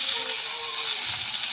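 Black cumin and whole cumin seeds hitting hot oil with dried red chilies, a loud continuous hiss and crackle that holds steady for the whole moment.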